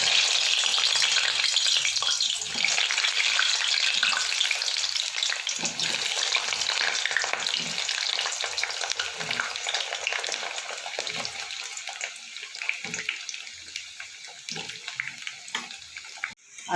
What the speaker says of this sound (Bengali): এবার আলুগুলো আমি একটু ভেজে নেব।